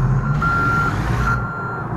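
Reversing alarm of a truck in the American Truck Simulator game, one long steady electronic beep over a low engine rumble, close and loud, with no talking.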